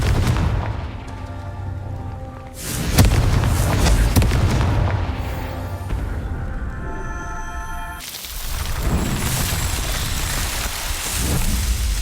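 Confringo spell explosions in Hogwarts Legacy, loud booming blasts with rumbling, crackling debris and a sustained roar, one sharp burst near three seconds and another shift around eight seconds, without speech.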